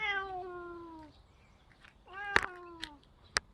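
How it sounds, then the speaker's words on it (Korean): Two stray cats meow in succession, a long descending cry followed by a shorter one, with a few sharp clicks near the end. "저쪽이 고양이네"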